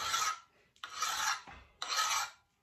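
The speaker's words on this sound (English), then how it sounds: "I would take a file" A hand file rasps across a steel barrel held in a vise in three separate, even strokes, each stroke a harsh scraping sound with short pauses between.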